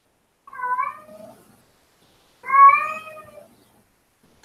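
A cat meows twice, each a clear, close, plaintive cry about a second long, separated by a silent pause of over a second.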